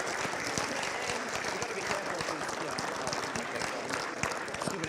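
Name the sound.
spectators applauding the referees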